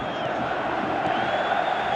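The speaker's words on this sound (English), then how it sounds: "you can hear how the crowd are reacting to this too" Steady roar of a football stadium crowd reacting during a match, a dense wash of voices holding at an even level throughout with no clear breaks.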